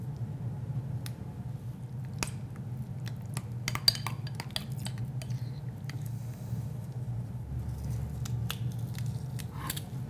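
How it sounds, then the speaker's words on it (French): Two garlic cloves are squeezed through a metal garlic press for homemade tzatziki, giving scattered squishy crunches and sharp metallic clicks over a low steady hum. "Et ensuite, on va presser nos 2 gousses d'ail"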